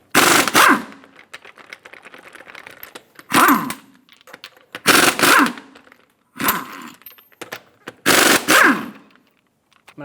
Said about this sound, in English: Using a 22mm socket, remove the 6 lug nuts.